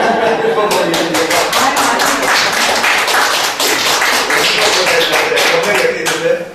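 Applause from a group of people at a Buddhist sutra lecture hall, a dense run of hand claps lasting several seconds with voices mixed underneath.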